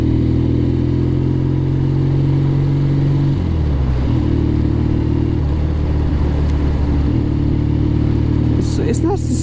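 A 1962 Norton Dominator 88 500cc motorcycle rides along with a loud, steady engine drone, dipping in pitch around a gear change before pulling again, with wind rushing and a voice talking over it.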